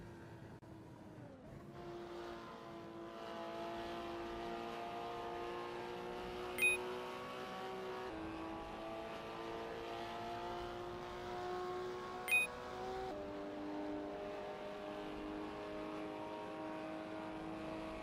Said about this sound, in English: Ronnie Jonker is on their out lap, warming up the tires and getting ready to put in a fast lap time.